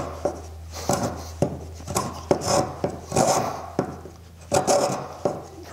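A drawknife or spokeshave shaves wood, cutting out bandsaw marks in a series of close, rasping scraping strokes, each beginning with a sharp bite and trailing off, repeated in an uneven rhythm.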